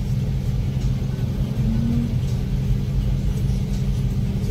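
A steady low engine rumble comes from cars, including Dodge models, rolling out single file from a Mopar show near Mount St. Helens. It holds fairly loud and continuous with no talking.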